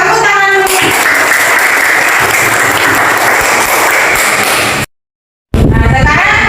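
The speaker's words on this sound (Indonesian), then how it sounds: "Tepuk tangan dulu." A classroom of students claps together in sustained, dense applause for nearly five seconds, loud and close, breaking off abruptly before a brief burst of clapping and chatter resumes.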